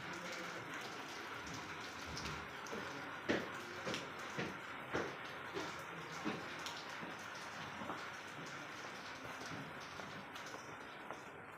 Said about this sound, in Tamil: விடவே மாட்டேங்குது மழை